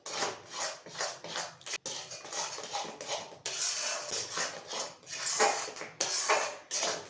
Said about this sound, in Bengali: এখন কিন্তু ঘন ঘন নাড়তে হবে, থামানো যাবে না।